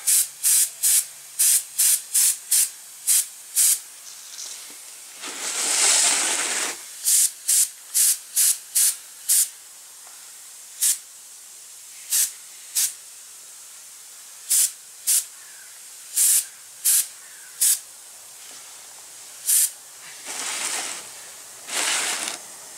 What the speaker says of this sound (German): Ich benutze hier ganz eine uralte, ganz billige Revell Sprühpistole, die ist ideal für sowas.